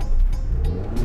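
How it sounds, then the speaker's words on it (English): A Yugo car launches on wet ground as the clutch is dumped, a loud, close engine roar with low rumble that surges and holds, no voices over it. "How okay are you with me dumping the clutch on wet ground?"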